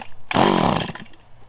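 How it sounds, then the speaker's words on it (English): A small two-stroke string trimmer engine suddenly roars to its top-end revs for a brief burst, then quickly drops away. "We want to hear some of that four-stroking, that high RPM stutter when it's at its absolute top end"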